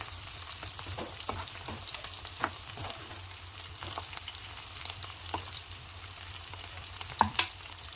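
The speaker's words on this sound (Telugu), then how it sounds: "ఆనియన్ ఫ్రై కావాలి" Onions fry steadily in a pan for an egg curry, a continuous hiss broken by scattered crackles and a few sharper pops near the end, with no one talking.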